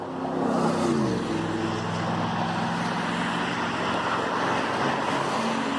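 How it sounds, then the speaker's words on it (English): Steady roar of road traffic beside a big river, cars driving past continuously with an engine tone shifting near the start, loud and close. "Lots of cars."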